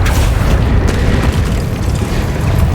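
Spell explosions in the video game Hogwarts Legacy rumble as a loud, continuous booming roar with deep low-end weight and no clear gaps.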